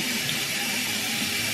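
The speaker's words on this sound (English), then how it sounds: "then I will rinse with warm water" A tap runs steady warm water for rinsing a face at a sink, a constant close, bright hiss with no pauses and no talk.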